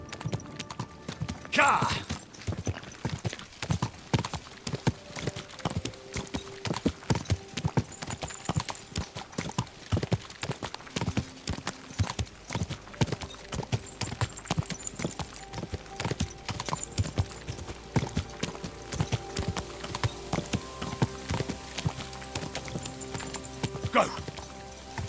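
Horse hooves clip-clopping in the video game Kingdom Come: Deliverance II, a steady close rhythmic trot that runs the whole time, with a short neigh and brief spoken words in places.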